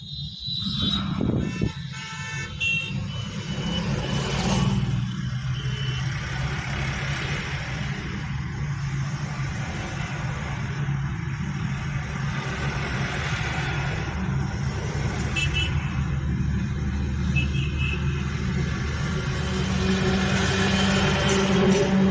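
A car being driven by a learner with an instructor, the engine running steadily at low speed with a continuous rumble as the driver shifts into second gear, a brief rev near the start.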